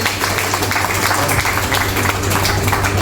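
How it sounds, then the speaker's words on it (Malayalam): An audience at a grandparents' gathering claps together in a dense, steady patter of applause that holds loud and even for a few seconds, with a low background hum. "കൈയടിക്കുക കേട്ടോ എല്ലാവരും."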